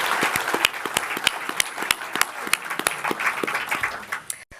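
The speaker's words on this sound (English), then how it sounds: "Please give them all a round of applause for volunteering their service to the community" Audience applause at West Hollywood's 40th cityhood celebration, a dense, steady crowd clapping with many sharp individual claps, fairly close and loud, fading out at the end.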